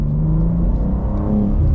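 A 2025 BMW M2 with a manual gearbox pulls away from rest, its engine rumbling low and loud and rising in pitch, heard close from inside the car with no talking.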